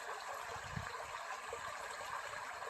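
Small babbling brook just below a bridge on a paddling route, a steady close wash of flowing water with no distinct splashes, continuous and even throughout.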